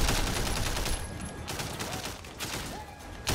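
Rapid bursts of gunfire from a firefight in the open-world crime game Sleeping Dogs, loud and dense throughout with overlapping shots and game noise.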